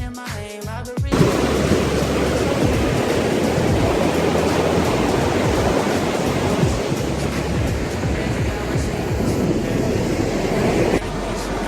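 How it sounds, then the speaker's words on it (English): Beach surf in Bali breaking steadily as a broad, continuous roar of waves, loud and close, with no voices over it. "we'll go check out a bit of the beach that I'm at"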